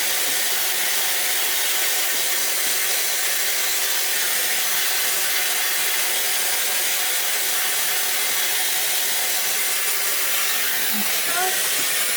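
A Dyson hair dryer blowing on its cool blast setting during short-hair styling, a loud, close, steady airy roar with a constant hiss that runs unbroken for the whole stretch.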